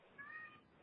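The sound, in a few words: cat meowing at office doorway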